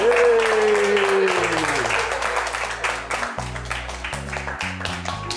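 Clapping bursts out in celebration, dense and continuous, mixed under a loud tonal music bed with sliding and stepping notes throughout.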